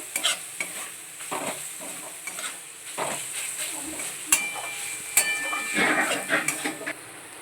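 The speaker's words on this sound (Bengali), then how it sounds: "ভালো করে মশলাটাকে কষাবো" Spice masala with turmeric being sautéed in a pan for a homestyle chicken bread dish, steady sizzling under repeated stirring and scraping, with a few sharp utensil knocks against the pan.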